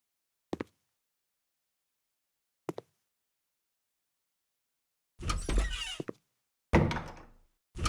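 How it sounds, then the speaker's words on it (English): A door in the video game House Flipper thumps against the player, a few short knocks followed by two louder, longer bangs and rattles, standing alone against silence. "I keep hitting myself in the head with the door."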